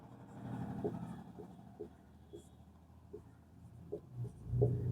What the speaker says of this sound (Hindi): अतः अब यहाँ पे लिखेंगे